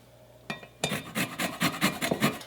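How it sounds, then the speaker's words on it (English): A lemon is zested on a grater, giving a quick series of about a dozen rhythmic rasping scrapes after a brief knock, close and clear with no talking. "I'm going to zest a lemon."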